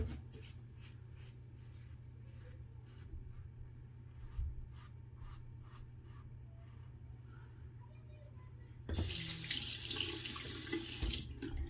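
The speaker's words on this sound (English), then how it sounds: "I'm going to do a quick cold water rinse" Tap water runs into a sink for a cold-water rinse after a shave with a Rockwell 6S safety razor, a steady close stream that swells to a louder rush near the end.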